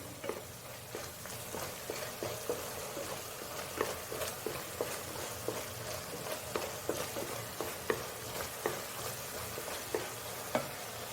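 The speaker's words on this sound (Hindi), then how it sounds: "तेल में थोड़ा फ्राई करेंगे" Steady sizzling and crackling of spiced mutton kofta mixture frying in hot oil with turmeric, with occasional stirring scrapes, continuous and close, no voices.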